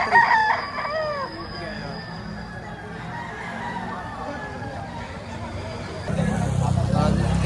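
A rooster crows near the start amid chickens clucking at a chicken market in Batangas, with people talking in the background and a low engine rumble rising toward the end.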